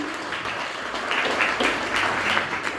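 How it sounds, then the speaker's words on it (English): Campaign headquarters opening audience claps for the MC, a steady patter of applause from a moderate crowd swelling briefly in the middle, heard close and without talking over it. "Please give him a round of applause"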